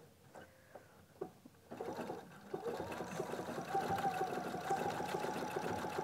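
A sewing machine quilts fabric in a quilt-as-you-go project. After a few quiet starting clicks, it settles into a fast, steady mechanical whir that stays close and continuous.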